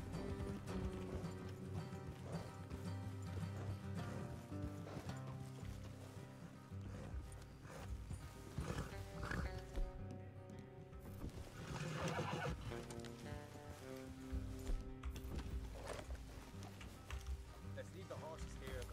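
Horses in a video game whinny and snort with clip-clopping hooves, heard over a busy mix of game music and ambience, with a voice speaking at times.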